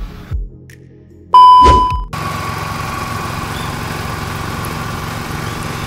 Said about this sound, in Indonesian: nyok nanam bayamnya pakai mesin jadi sangat praktis dan cepat